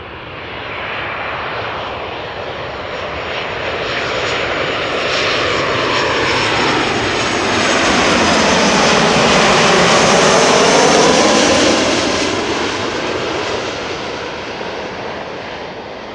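A Transavia Boeing 737-800 arriving at Amsterdam Schiphol roars overhead, its engine noise swelling from a distant rumble to a loud, close whine and then slowly fading as it passes.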